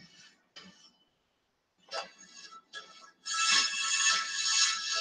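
A bright sawtooth synthesizer plays harmony chords in a music project, opening with short stabs separated by gaps and then holding a sustained chord at the end, with no voices.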